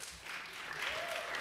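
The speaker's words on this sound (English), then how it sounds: "So I'm going to hope that that's the only clapping for this hearing" Scattered applause at a council hearing, faint and distant, carrying on briefly with no talk over it.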